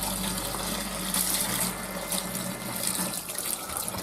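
Hot water runs into an emptied homebrew beer kit tin to rinse out leftover malt extract, making a steady, close, hissing gush that continues without a break.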